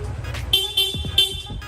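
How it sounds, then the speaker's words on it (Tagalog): The stock horn of a Yamaha Sniper 155 motorcycle toots in short repeated bursts over its running engine, close by and fairly loud. "Sir, pabusina naman, stock horn"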